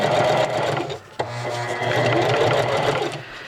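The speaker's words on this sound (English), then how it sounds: "I'm going to start back step a little bit so it stays. Stitching doesn't come undone." Sewing machine back-stitching a pocket cloth diaper, a steady close mechanical whir of needle strokes with a brief pause near the middle before stitching resumes.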